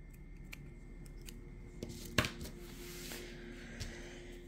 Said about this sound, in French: Alors, on va couper le nœud.